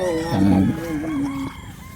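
F1 gamefowl chickens, offspring of imported birds, crow on a game farm in one loud rooster call that rises and holds, with clucking and other fowl behind it.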